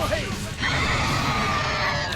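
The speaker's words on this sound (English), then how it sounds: "You're fighting a horse with delusions of grandeur." A horse enemy in the Tales of Berseria video game lets out a loud, sustained whinny during a boss battle, close and dominant with no talk over it.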